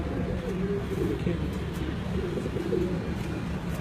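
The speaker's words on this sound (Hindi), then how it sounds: "बेहतरीन उड़ान और जोड़ों में डालने वाला बेहतरीन खूबसूरत कबूतर है जी" An Imam Din breed pigeon coos in low, steady, rolling murmurs, close by and continuous under a constant background hum.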